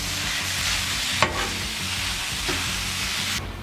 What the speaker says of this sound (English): We put our buffalo sauce and our sour cream in first, mixed it up a little bit.